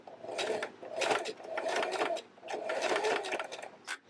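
Sewing machine back-stitching a wristlet keychain: three close bursts of rapid mechanical stitching, each about a second long, separated by brief pauses as the direction reverses, with a small click at the end.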